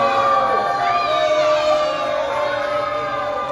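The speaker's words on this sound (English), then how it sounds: "we get a crazy reaction from the crowd coming here tonight for Austin James" A wrestling event crowd cheers and shouts, a loud sustained roar with whistles and high-pitched yells throughout.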